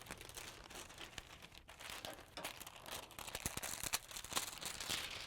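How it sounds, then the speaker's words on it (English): Heat printing foil being peeled off flocked fabric: a faint, continuous crinkling and crackling, close up and irregular, with no one talking. "We can go ahead and go to the other side and peel the foil off"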